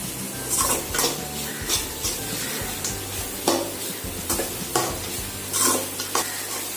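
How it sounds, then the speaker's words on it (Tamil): Mint mango rice stirred in a pan over high flame, a spoon scraping and clinking against the metal in a steady rhythm over a soft, continuous sizzle, close and fairly loud with no talking. "இப்போ அடுப்பை வந்து ஹை ஃப்ளேமில் வச்சுட்டு ஒரு 2 மினிட்ஸ் நல்லா மிக்ஸ் பண்ணிட்டே இருங்க"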